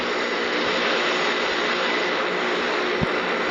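Airplane engines roar in a flight video game, a steady, dense, loud drone that holds unchanged for a few seconds with no other sounds.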